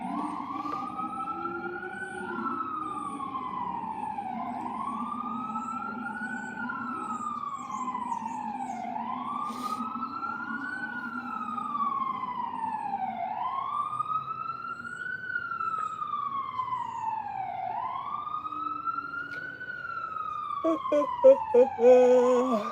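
A passing emergency truck's wailing siren rises and falls in steady, repeated sweeps, moderately loud and sustained, with a brief clatter of noise near the end.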